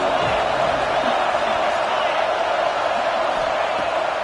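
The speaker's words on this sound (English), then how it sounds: "how nice is it to have the home crowd going absolutely bananas?" A home crowd at a USC versus Notre Dame college football game roars loudly and steadily, with a broadcaster talking over the dense, continuous cheering.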